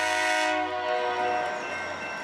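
A freight train lashup led by an SD70MAC locomotive passes with a loud, sustained harmonic horn blast that fades into steady rumbling.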